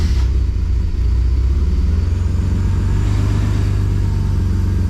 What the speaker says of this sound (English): I'm gonna start up the car and let it warm up until it starts shaking